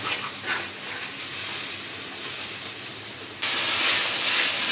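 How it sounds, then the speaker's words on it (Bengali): Ginger and garlic spice paste sizzles as it fries in a pan, a steady close hiss that jumps suddenly louder and brighter near the end, with no talk. "মশলাটা কষাই নিই।"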